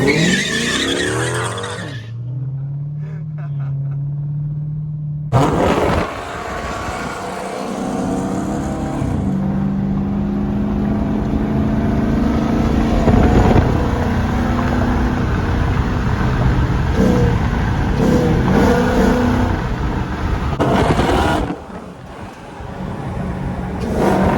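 A Dodge Demon revs hard and spins its tires in a loud burnout, the engine roaring with sustained tire squeal and skidding, brief lull then more revving, very close, no voices.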